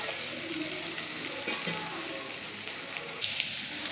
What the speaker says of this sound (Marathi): त्यामध्ये आपण लसूण टाकूया। लसूण चांगला भाजून घ्यायचा।